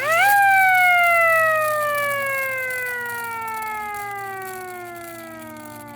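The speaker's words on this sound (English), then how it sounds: "it's long for a hand crank siren" Hand crank siren winding down after reaching full pitch, a loud tone with layered harmonics that peaks early and then slides slowly lower over several seconds, fading as it descends, heard alone without talk.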